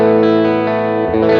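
An electric guitar plays a sustained, ringing chord through an amp emulation pedal set for a Silverface-style Fender tone, warm with a slight chorus-like shimmer, then is restruck near the end.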